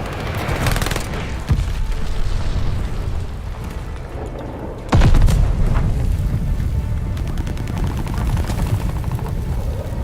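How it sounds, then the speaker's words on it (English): Heavy explosions from an airstrike in Call of Duty Vanguard batter the scene, with a loud booming hit midway over continuous rumbling gunfire and blasts. "Allies pulled an airstrike"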